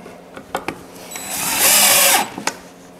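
A 12-volt cordless driver sets screws while a new shop dolly is built, giving one sustained high whine of about half a second. A few sharp knocks and clicks come before and after it, close and fairly loud.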